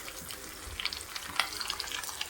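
Faint crackling spits and pops from a spoonful of hot oil tempering cumin, curry leaves, green chilli, sesame and asafoetida for a beetroot and coconut salad, with scattered sharp crackles over a soft steady hiss.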